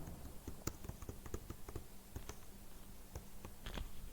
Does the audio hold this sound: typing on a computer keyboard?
yes